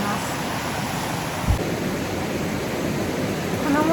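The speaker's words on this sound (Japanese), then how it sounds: "こんなに流れが速くてバシャバシャしてるとこって釣れるのかな" Fast-flowing river water rushing and splashing in a steady, loud, broadband roar that stays constant throughout, with a brief low thump partway through and no voices.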